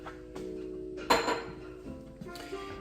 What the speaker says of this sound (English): now I'm just going to add, with like a curved spatula like that, the eggs into the pan